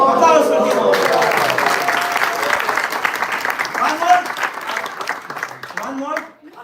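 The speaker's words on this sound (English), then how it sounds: "Applause for him." Audience applause from a crowd at an evening devotional drama celebration, steady dense clapping that fills the room and fades out near the end.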